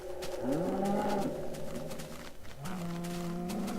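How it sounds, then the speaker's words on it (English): Cows in the Minecraft video game moo in two drawn-out overlapping calls, each with a rising pitch, loud and close over a steady ambient hum. "A chorus of cow."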